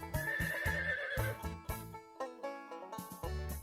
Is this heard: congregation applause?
no